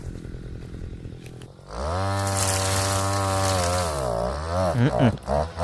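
A gas brushcutter clearing overgrown bushes in a garden starts after a short stretch of faint background, then holds a loud, steady, close engine whine before revving up and down unevenly near the end.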